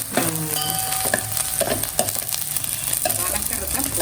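Onions and curry leaves sauté for a fish curry of vela meen, a loud continuous sizzle close by with repeated scraping stirs and occasional metallic clinks.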